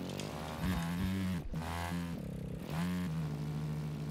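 Dirt bike engine in the Project Third Eye video game, revving steadily with a strong harmonic drone that dips briefly near the middle and rises again as the throttle opens, loud and close with no talking.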